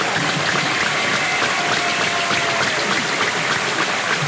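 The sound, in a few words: graduation audience applauding seniors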